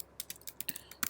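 Someone types code on a computer keyboard, with quick, light, irregular key clicks close by in a quiet room.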